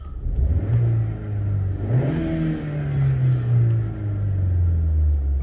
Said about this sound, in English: I'll give the car a very quick rev.